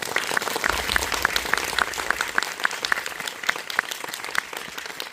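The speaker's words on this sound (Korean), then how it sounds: "두 분에게 모두 박수를 한번 부탁드립니다." An audience at a special talk applauds two guests, a steady dense patter of many hands with a few sharper claps standing out, moderately loud and continuous.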